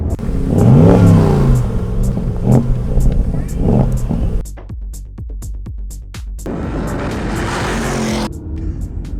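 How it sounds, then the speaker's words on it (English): Ford Mustang with a 5-litre V8 roars through sharp revs and accelerating bursts, loud and close, with a lull of quieter idling before another sustained climb. "it is a 5-litre V8 engine"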